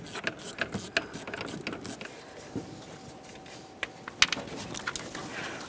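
A ratchet clicks in quick bursts while removing intake bolts on a 2.3L Ford Ranger engine, close and fairly quiet, with pauses and small clanks between runs of turning.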